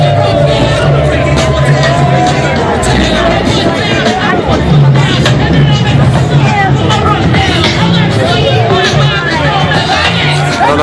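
Dense crowd hubbub at the Coachella festival, with a continuous babble of many voices, shouts and chatter, and a band's music bleeding faintly underneath; a nearby person talks over the noise.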